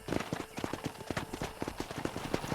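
Horse hooves clip-clop at a steady trotting rhythm in the Red Dead Redemption western game, close and fairly loud, with faint background murmur.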